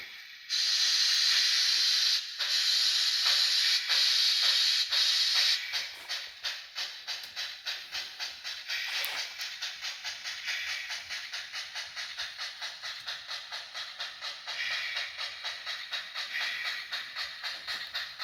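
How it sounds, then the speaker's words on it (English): A model train arrives with a loud steam-like hiss at first, then a rhythmic chuffing and clicking of wheels on track that continues steadily. "So anyhow, here comes R.K. Bradford's train into Embudo."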